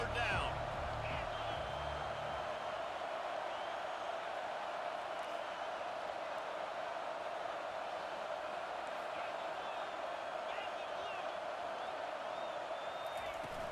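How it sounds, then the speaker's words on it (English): A stadium crowd roars steadily in a football video game as the defense lines up on third down, a dense, sustained wall of cheering noise that holds at an even level from start to finish. "Decibels rising as the crowd gets behind this defense on 3rd down."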